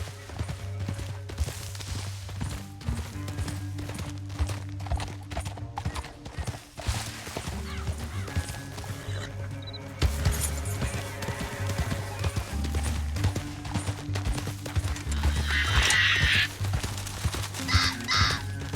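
Horses galloping in the Red Dead Redemption 2 video game, with rapid, continuous hoof clip-clops, an occasional whinny and distant crow caws over a low musical bed, all fairly faint.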